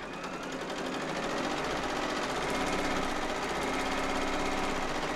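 An embroidery machine stitches a placement outline, its needle bar chattering in a fast, steady mechanical rhythm with a motor hum underneath, loud and close for several seconds with no talk.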